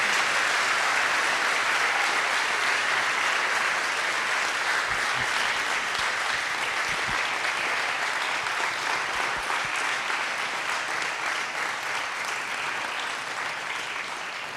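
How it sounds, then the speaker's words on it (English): A graduating class of 2025 at a Sikh secondary school convocation ceremony is met with loud, sustained applause and jakara cheers from the crowd, a steady roar of clapping that holds for the full stretch and eases slightly at the end. "some jakaras and a round of applause for the graduating class of 2025"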